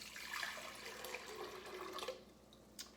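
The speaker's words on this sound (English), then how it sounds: "I take about 16 ounces of that and I pour it in my blender." About 16 ounces of Aldi sparkling water poured into a blender, a steady splashing, fizzing stream lasting a few seconds before tapering off with a final drip, quiet and close.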